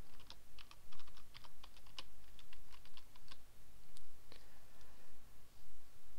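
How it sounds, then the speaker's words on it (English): Quick bursts of keystrokes clatter on a computer keyboard, close and crisp, in an irregular typing rhythm with short pauses between clusters. "So type in our subdomain,"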